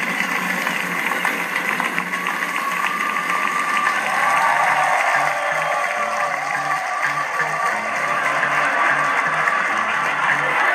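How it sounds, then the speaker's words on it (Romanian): Sustained audience applause greeting the comedian Pepino on the iUmor stage, a broad continuous roar of clapping with a droning background tone underneath, steady and unbroken for about ten seconds. "Doamnelor și domnilor, să-l primim cu aplauze pe Pepino de România!"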